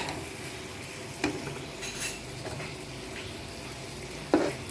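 A fish and lentil-dumpling curry is stirred in a pot on a home stove, with soft scraping and a low simmering sizzle and two sharp utensil knocks against the pot.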